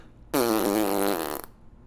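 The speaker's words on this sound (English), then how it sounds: "it makes this sound like you farted" A rubber whoopee cushion being squeezed, producing one loud, sustained, buzzing flatulent blat lasting about a second, close and clear with no talking over it.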